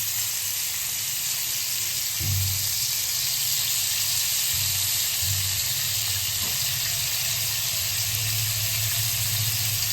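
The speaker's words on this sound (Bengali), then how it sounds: "এবারে এটা উল্টে পাল্টে ভাজা করে নেব।" Pieces of tandoori-style chicken kathi kebab fry in a pan at home with a constant, fairly loud hiss and sizzle, plus a couple of soft low bumps as they are turned.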